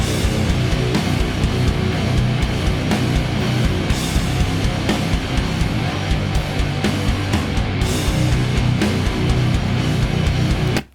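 Full band of electric guitar, drums and bass playing a big, loud, dense section together, with steady cymbal and drum hits under the constant guitar roar.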